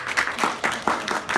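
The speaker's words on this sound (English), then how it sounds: "flew away to the applause of the crowd" A short burst of crowd applause, rhythmic clapping pulses repeating at a brisk pace across the moment, fairly close and moderately loud.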